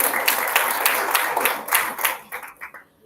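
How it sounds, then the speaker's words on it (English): Audience applause at an international roundtable event, a dense patter of clapping that is fairly loud at first, then thins and fades out toward the end. "So please give them a round of applause as well."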